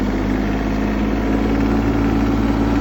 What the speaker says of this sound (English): It's a really high revving tractor with that pedal like that